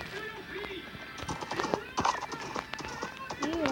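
Galloping horses in the Minecraft video game: rhythmic hoof clip-clops with occasional whinnies, moderately loud and close, mixed with a voice talking over the game sounds.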